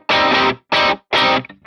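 Electric guitar through a Victory Copper amp capture on an edgy, slightly less dirty setting: three loud, bright strummed chords, each ringing briefly and cut off, followed by a short quieter note.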